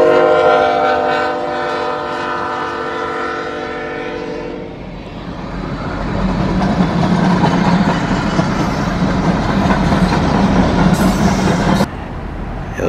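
A loud train horn blares for several seconds, then the heavy rumble and clatter of a train passing through the middle of town in Biloxi, Mississippi continues steadily.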